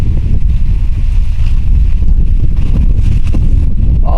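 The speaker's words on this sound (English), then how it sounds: "Oh, hear that wind? It's just crazy today. And it is a cold wind." Strong cold wind gusts across the microphone outdoors, a steady loud rumbling roar that holds through the whole stretch with no voices.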